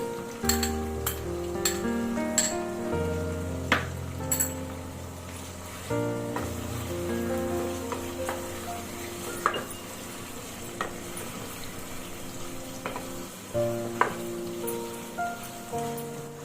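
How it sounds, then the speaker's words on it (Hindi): Ginger and garlic are added to chicken browning in a pan on medium heat, bringing a low sizzle broken by repeated clinks and scrapes of a spoon against the pan. The stirring comes in irregular bursts and no one speaks. "अब सबसे पहले मैं इसमें अदरक लहसुन ऐड कर दूंगी।"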